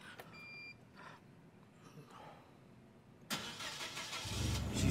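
A propane-fuelled Lift Hero LG30LGT 6,000 lb forklift engine cranks and catches at mid-clip, rising into a steady, fairly loud idle after a quieter stretch of faint background noise.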